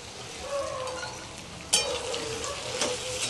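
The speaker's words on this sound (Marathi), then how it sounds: "तर खडे मसाले सुद्धा आपण कांद्याबरोबर भाजून घेऊया." Whole spices and onion roasting together in a pan for Pune-style misal, a soft, steady frying sizzle with light stirring scrapes and one sharper clink midway.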